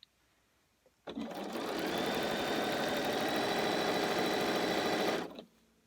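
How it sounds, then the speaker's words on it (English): A sewing machine stitches unpinned quilt pumpkin pieces together in one loud, steady run of about four seconds. The rapid needle clatter starts abruptly and stops abruptly, with quiet before and after and no talking. "and then I'm just gonna start sewing"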